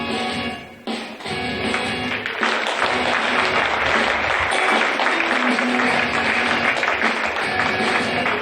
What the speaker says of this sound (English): Huge applause when they come in.